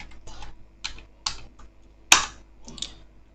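An nmap command being typed on a computer keyboard: about seven or eight distinct, irregularly spaced key clicks, close and clear, with one sharper, louder strike partway through.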